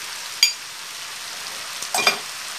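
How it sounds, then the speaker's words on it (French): Vegetables being stirred with pink peppercorns in a pan, a couple of brief scraping, sizzling stirs standing out over a soft steady hiss, close and fairly quiet. "Et on va remélanger."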